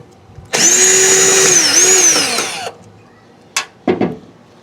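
A power drill whines loudly as it backs Phillips screws out of a truck taillight, running for about two seconds with a wavering pitch, then two short bursts follow after a pause.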